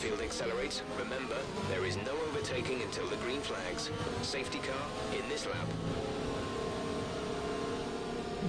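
Formula 1 race cars in the F1 2020 video game, running in a line behind the safety car at the Italian Grand Prix, produce a steady droning engine hum that continues beneath ongoing talking.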